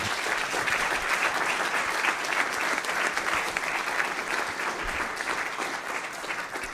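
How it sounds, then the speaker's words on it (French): A conference audience at BDX I/O 2023 applauds a speaker after a talk on application vulnerabilities. Sustained, dense clapping runs at a steady level throughout and eases off slightly near the close. "Bon, ben, on peut l'applaudir très fort."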